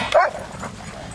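Dogs playing together at a park give a short yip and whimpering bark, close and fairly loud, then fade into quieter background.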